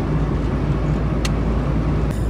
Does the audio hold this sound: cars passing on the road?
yes